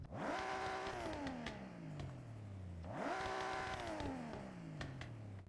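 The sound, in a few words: 1,150 hp engine revving with backfire, Forza Horizon 6 video game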